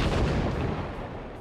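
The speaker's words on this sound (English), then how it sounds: "Medium distant explosion" Medium-range explosion from Halo 3, a modded video game: a short, loud, rumbling blast with a muffled boom that fades over about a second.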